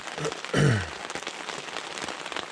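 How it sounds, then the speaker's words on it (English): Steady patter of rain drumming on a tent overhead during an overnight storm, close and continuous, with a brief louder rustle partway through. "It's raining."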